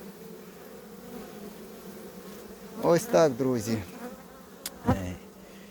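A steady hum of many bees buzzing at an apiary fills the background, while someone briefly speaks over it.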